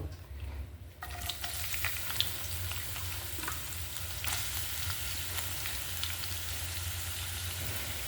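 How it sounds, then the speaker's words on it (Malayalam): Sliced onions dropped into hot coconut oil in a pan for a prawn roast, a quiet pan that bursts into a dense, close hissing sizzle that holds steady with occasional crackles, no talk. "നമുക്ക് സവാള ഇട്ട് കൊടുക്കാം വെളിച്ചെണ്ണ വെച്ചിട്ടുണ്ട് കേട്ടോ"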